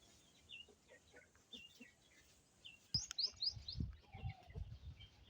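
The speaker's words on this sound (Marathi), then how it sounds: "ही बघा इकडे कोंबडी आहेत." Outdoors among chickens, faint scattered chirps and clucks sound at a distance, then a sharp knock gives way to closer calls and rustling.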